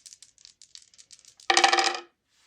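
Dice for a lottery jackpot roll clatter briefly after a run of light clicks, giving a sharp, close rattle of about half a second before silence.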